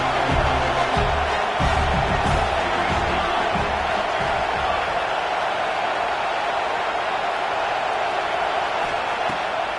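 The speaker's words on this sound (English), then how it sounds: "Listen to this crowd just shaking the girders of this place, trying to help their defense." A huge American football stadium crowd roars continuously, a dense wall of cheering and shouting that stays loud and steady throughout.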